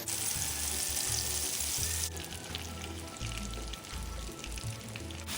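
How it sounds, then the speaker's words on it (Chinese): Red bean paste stirred continuously in a pot over low heat, giving a steady close hiss and soft scraping that turns slightly duller partway through, with no talking. "炉一直保持低火，记得要不停搅拌，避免底部烧焦。"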